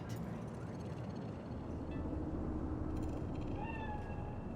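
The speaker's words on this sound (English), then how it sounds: "Do you see it? That cat?" A cat meows a few times in Cyberpunk 2077, short rising cries over a steady rumbling game ambience with some speech in the background.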